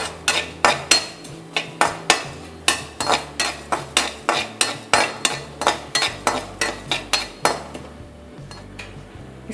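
Black urad dal is lightly roasted in a little leftover oil, with a metal spoon scraping and clinking against the pan in a fast, steady rhythm of sharp strokes, close and clear, easing off near the end.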